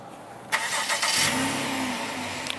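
A 2017 Honda Accord Coupe EX-L V6 engine, started by remote start, cranks and catches, then settles into a steady idle hum, heard from close by with no one speaking.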